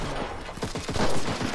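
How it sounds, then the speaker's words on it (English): A machine gun fires in the World War II shooter Enlisted, a close, rapid burst of repeated shots with an uneven rhythm over a noisy battlefield background. "Fire a little machine gun."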